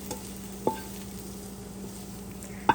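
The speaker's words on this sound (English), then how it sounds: "stir fry till the melon gets softer" Garlic and soaked bitter melon sizzle softly in a wok under a steady low hiss, with two light clinks of a utensil against the pan, one early and one near the end.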